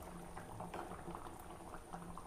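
A pot of fish curry with mango and tamarind bubbling at a steady boil, a faint continuous simmer with soft popping bubbles, close and quiet with no talking.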